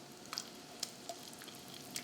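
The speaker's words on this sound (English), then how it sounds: "Now my second pan, I hear sizzle again. I'm gonna lay in the potatoes." Potatoes sizzling in a frying pan during a Lyonnaise preparation: a soft, steady crackle with a few sharp pops scattered through, faint and close, no voices.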